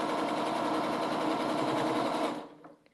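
A sewing machine stitches a quilt block in a steady, close whirring run of rapid needle strokes, stopping abruptly near the end.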